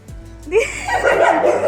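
A big dog barks at home, one loud close bark followed by whimpering and growly yelping sounds against a low hum, without speech.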